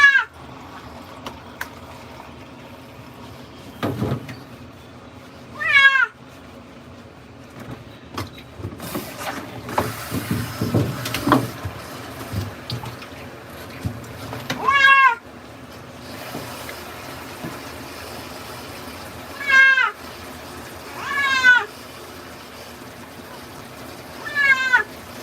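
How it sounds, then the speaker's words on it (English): A cat meowing while placed in a basin during pelt removal, several drawn-out cries spread across the clip, with splashing water and handling noises between them. "A lot of times it will help just to put a cat in a basin."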